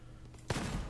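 Rapid bursts of fast-firing gunfire from a long-range weapon in the shooter game Gunfire Reborn erupt suddenly halfway through, loud and dense after a quiet start.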